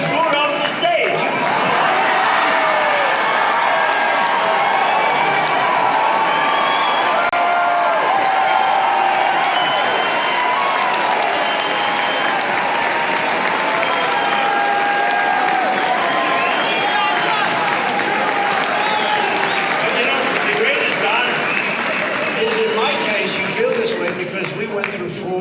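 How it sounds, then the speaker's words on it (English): A dense crowd inside a room at a Donald Trump event cheers and applauds steadily, loud and sustained, with whoops and shouts over continuous clapping. "This was the crowd inside the room with Donald Trump."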